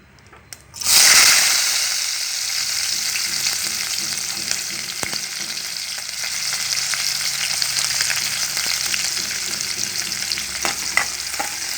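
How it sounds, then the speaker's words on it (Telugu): Sliced onions sizzle and fry in a kadai on a lit stove, a steady loud crackling hiss that starts abruptly after a brief quiet moment and holds, with occasional stirring clicks. "మళ్ళీ స్టవ్ వెలిగించేసి అదే కడాయిలో ఆనియన్స్ వేసుకోవాలి"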